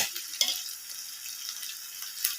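Frying over a low flame in a pan, a soft steady sizzle with faint occasional stirring clicks, close and alone with no talk.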